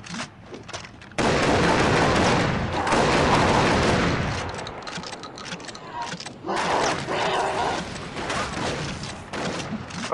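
Dense bursts of gunfire and booming blasts from the Far Cry 3 Blood Dragon video game roar almost continuously, loud and close, with a brief quieter gap near the start.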